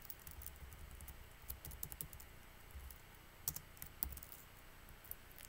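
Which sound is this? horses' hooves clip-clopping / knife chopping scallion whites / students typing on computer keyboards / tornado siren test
students typing on computer keyboards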